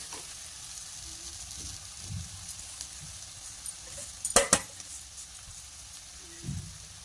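Soaked poha being stirred into a sizzling mixture in a pan gives a steady low frying hiss, with soft scraping strokes and a couple of sharp clinks of the spoon against the pan midway.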